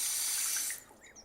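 Water runs from a tap for washing during wudu, a steady bright hiss that stops abruptly near the middle and leaves a few faint drips and splashes.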